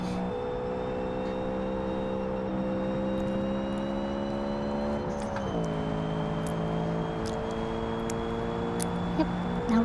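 A naturally aspirated 240 horsepower V8 with no turbo drives an old Natsun Karana in a driving game, its engine whining steadily as it accelerates, with a brief pitch drop mid-run as it shifts gear.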